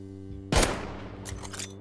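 Gunfire in the game Rust: a sharp, loud shot cracks out of a low steady hum, and a few quieter follow-up shots come about a second later.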